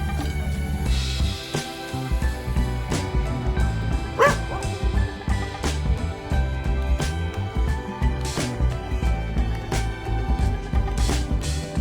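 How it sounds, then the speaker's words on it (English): Dogs on rooftops in Zihuatanejo bark and yip repeatedly, several voices overlapping in irregular bursts amid steady outdoor background noise. "More interesting than most are its roof dogs."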